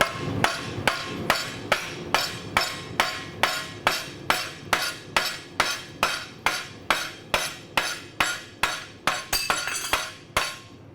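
A hammer forges a hot steel knife blade on an anvil: a long, even run of about two dozen sharp metallic strikes, roughly two per second, loud and close.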